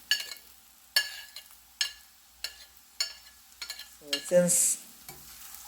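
Onion sautéing in a pan for a Kerala fish dish as ginger and garlic go in, with repeated sharp scraping stir strokes and a brief burst of sizzle near the end; a voice speaks briefly.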